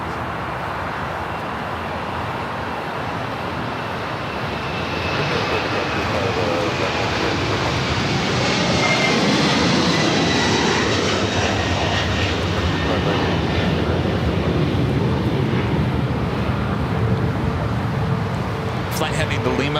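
A 25-year-old Boeing 747-400 jet rolls down runway 25 left at LAX, a broad steady engine roar that swells after a few seconds and holds loud and near, with no talk over it.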